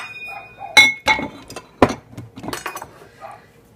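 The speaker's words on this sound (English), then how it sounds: "I'm going to go ahead and set that bowl aside" A mixing bowl is set down on a kitchen counter, giving a few sharp close clinks and knocks spaced irregularly, with a voice talking lightly alongside.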